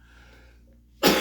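A single sharp cough bursts out loudly near the end, close to the microphone, after a quiet stretch.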